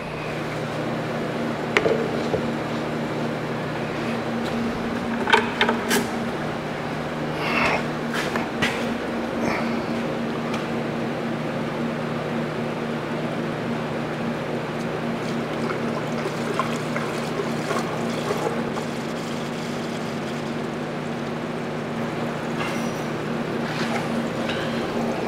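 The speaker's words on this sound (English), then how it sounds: "Let's see how much diesel I can get back in the tank without making a mess." Diesel fuel is poured back into the tank of a Ford Thunderbird fitted with a Cummins 4BT engine, giving a quiet, continuous trickle over a low steady hum, with a few faint clinks and knocks scattered through it.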